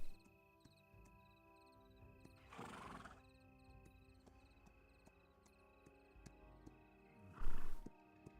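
Horse whinnying in the fantasy video game Pantheon: Rise of the Fallen, two loud neighs a few seconds apart, the second closer and stronger, over a busy game ambience with faint hoofbeats and layered tones.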